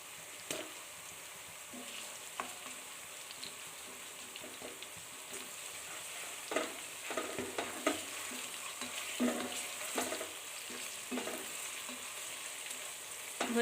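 Garlic paste fries with translucent onions in a pan, giving a steady low sizzle with scattered stirring scrapes and clinks throughout, no voices.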